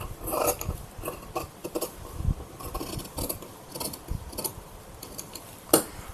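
Scissors cut through blouse fabric along the neckline, a run of soft irregular rasping snips and rubbing strokes with a sharper click near the end, close and moderately quiet with no talk.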